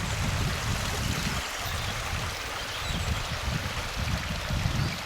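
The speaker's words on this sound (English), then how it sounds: "And there's the River Burn." The River Burn flows beneath a bridge, a continuous rushing and burbling of stream water with no talking, steady and fairly close.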